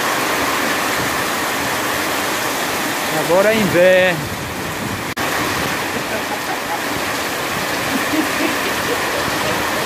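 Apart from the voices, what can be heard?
heavy rain with strong wind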